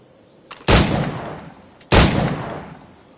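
Two heavy firearm shots in a PS4 video game, roughly a second apart, each a sharp loud crack followed by a booming, slowly fading tail.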